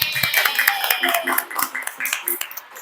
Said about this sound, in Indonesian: Tepuk tangan buat kalian semua.